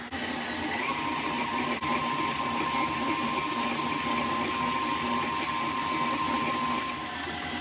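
Electric hand or stand mixer creaming butter and sugar at medium speed for sweet potato pie cookie dough, a steady loud motor whir with a constant pitch running throughout, alone without talk.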